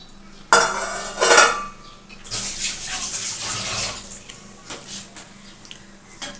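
Katla fish pieces are stirred with potatoes and watery gravy in a pan, heard as close metallic clanks and scraping of a utensil against the pan with sloshing liquid, gradually settling to quieter stirring.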